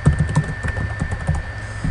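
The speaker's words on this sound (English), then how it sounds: "and I'm going to type my name." Keys on a computer keyboard are typed in a quick irregular run of close, crisp clicks, busier at the start and thinning out, with no talking.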